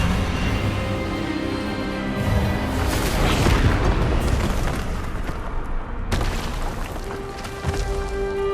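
An Expelliarmus spell effect from Hogwarts Legacy surges into a booming, crackling magical blast that swells and rumbles for several seconds, then cuts to a sharp transient and quieter ringing tones.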